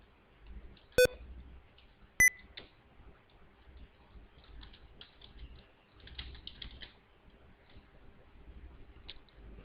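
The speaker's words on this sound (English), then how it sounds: "Then begin typing in there." Light, scattered typing on a computer keyboard, quiet and close, broken by two sharp electronic beeps near the start.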